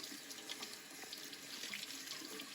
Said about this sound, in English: start to run it for a few seconds under some water, preferably some hot water